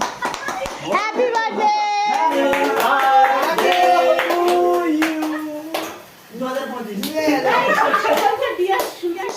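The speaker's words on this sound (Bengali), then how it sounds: "হাততালি দাও" Hands clap in a quick run at a home birthday cake-cutting for a wife, mixed with lively voices and singing-like talk from adults and children.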